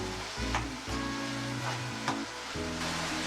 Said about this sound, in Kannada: ಈಗ ಇದು ಟೊಮೆಟೊ ಎಲ್ಲ ಎಣ್ಣೆಯಲ್ಲಿ ಬಿಟ್ಕೊಳ್ಳೋಕೆ ಗೊತ್ತಾಗುತ್ತೆ, ಅಲ್ಲಿವರೆಗೂ ಫ್ರೈ ಮಾಡಿ.